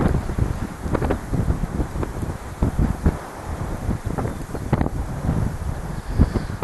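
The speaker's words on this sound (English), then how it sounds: "there is so much wind" Strong wind buffets the microphone on a hillside during slope soaring, rumbling low gusts that swell and drop in uneven bursts, loud and close, with no talk.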